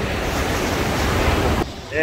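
Sea waves wash onto Gijang beach in winter, a steady broadband rush of surf mixed with wind noise that cuts off abruptly near the end.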